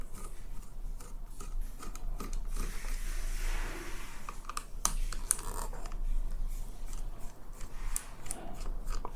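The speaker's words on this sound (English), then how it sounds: "So I need now Phillips screwdriver, but I need a small one." Small Phillips screwdriver backing out tiny screws from a YI car dash camera, a close, faint run of rapid clicks, ticks and light scraping that continues steadily with no voices.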